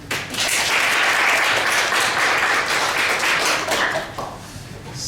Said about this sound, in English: Final applause for Katie.